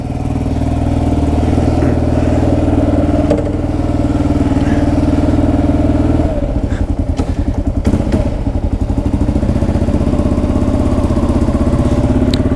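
A 2008 Kawasaki KLR 650 off-road motorcycle out on a ride, its engine a loud, steady drone that shifts partway through into a rougher, pulsing throb, with no talking.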